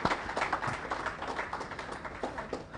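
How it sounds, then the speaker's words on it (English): An audience claps at the formal launch of a national computer emergency response team for telecommunications, a brief, moderately distant patter of many hands that rises and falls without cheering. "I believe a resounding round of applause is in order."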